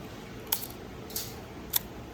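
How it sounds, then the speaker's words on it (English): A Voigtländer Prontor II leaf shutter on an old bellows camera with a Skopar 50mm f/3.5 lens fires three crisp, short mechanical clicks, spaced roughly half a second apart, close and alone. "So this is the shutter button where you press, then you fire."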